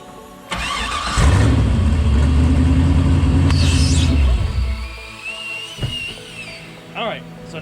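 A car engine drawing its intake air through a plastic shopping bag turns over and roars steadily and loudly for about three seconds before dying away, followed by quieter rustles and bumps.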